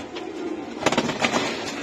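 Giribaz pigeons cooing softly in a loft, a few low throaty coos rising in the middle over a steady background hiss.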